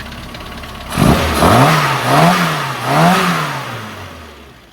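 A classic Mini's engine, its carburettor needle just adjusted, runs loud and close, blipping up and down in several rising and falling swells before settling back toward a steady idle.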